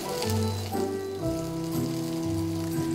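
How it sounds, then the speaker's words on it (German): Duck breast skin frying in a pan over three-quarter heat, a continuous dense sizzle and crackle of rendering fat, close and even, with a faint tonal hum under it and no speech. "Und jetzt lassen wir so schön die Haut anbraten."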